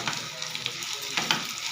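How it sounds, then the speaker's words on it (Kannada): Red chutney fries in hot oil, a short, steady sizzle at moderate level with a few light crackles over about two seconds. "ಇದನ್ನು ಸ್ವಲ್ಪ ಹೊತ್ತು ಚೆನ್ನಾಗಿ ಒಂದು 5 ನಿಮಿಷ ಎಣ್ಣೆಯಲ್ಲಿ ಬಾಡಿಸ್ಕೊಳ್ಳೋಣ."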